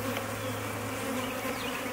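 Dense, steady hum of honeybees crowding an overflowing hive, a continuous close drone that holds level throughout with no voices.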